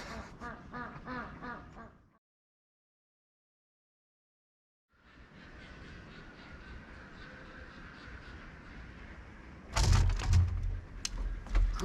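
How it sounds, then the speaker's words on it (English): A big white duck or small white goose honks in quick harsh bursts at the start, then silence, then outdoor ambience before a loud cluster of close honking calls near the end. "It's a big white duck or a small white goose. Anyways, it honks hysterically"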